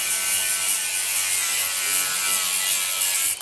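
A ratchet winds a bolt down on a garden room roof build, a loud rapid continuous clicking close by for a few seconds before stopping.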